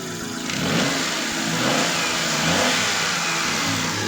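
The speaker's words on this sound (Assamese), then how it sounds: "গাড়ী ইঞ্জিনৰ চাউণ্ডটো মই এবাৰ আকৌ শুনাইছোঁ ৰ'ব।" A Hyundai Eon's engine revs close by, rising and holding steady with a continuous mid-pitched roar and no talking.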